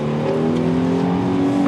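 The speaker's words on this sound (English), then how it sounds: "Get on the motorway and gun it" A car accelerating hard along a motorway during a police pursuit, its engine note climbing steadily in a loud, sustained roar with rising harmonic whine, no talking.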